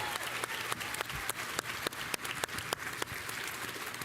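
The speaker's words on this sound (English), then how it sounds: "So please give Renee a round of applause." An event audience applauds during a livestream, a steady wash of many hands clapping heard faint and distant with sharper individual claps poking through.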